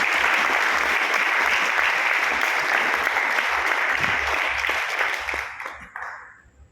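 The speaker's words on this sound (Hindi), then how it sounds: "उनका एक बार ताली बजा के उनका आभार व्यक्त करेंगे" An indoor audience claps together in a dense, sustained burst of applause that fades out near the end, loud and close with no one speaking.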